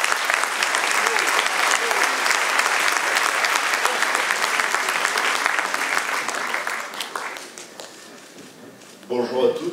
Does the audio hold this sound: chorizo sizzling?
no